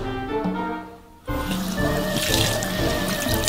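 A tap runs water into a sink, starting abruptly after a short quiet stretch and then pouring steadily and fairly loud, with faint background tones underneath.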